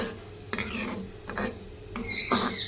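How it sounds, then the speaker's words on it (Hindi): Onion and spice mixture being fried in a pan for aloo baingan sabzi, heard as soft sizzling and scraping with a few stirring strokes, close and fairly quiet, with no talking. "अब मैं इस मिक्सचर को जो है भून लूँगी।"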